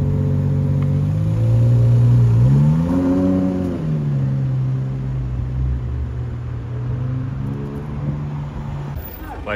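A Ferrari Monza SP2 drives by on a Paris street, its engine revving loudly with rising and falling pitch, fairly close and steady, then settling into a lower drone as it moves along.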